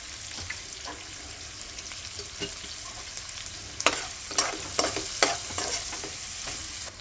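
Onions frying in a pan, with a steady soft sizzle and scattered scraping clicks from stirring that grow louder and more frequent in the second half.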